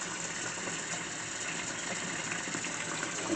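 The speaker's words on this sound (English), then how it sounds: "we're going to fill it up with cold water" Cold tap water gushing steadily into a pot of just-boiled eggs, a continuous close hiss and splash with no talk.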